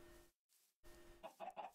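Chickens cluck in the Minecraft video game, a few short, clipped clucks with brief gaps, faint and close, with no talk over them.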